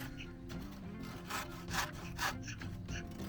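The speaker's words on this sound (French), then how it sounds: "Cette scie-là, je l'ai achetée pour les travaux d'utilité." A hand saw cuts through wood in steady back-and-forth strokes, close and clear, each rasping pass rising and falling in a regular rhythm.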